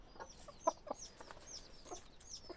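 Roosters and hens cluck in a farmyard, a scatter of short, soft clucks and calls at close range with no talking.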